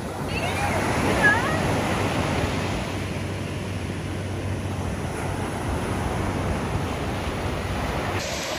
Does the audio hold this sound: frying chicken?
no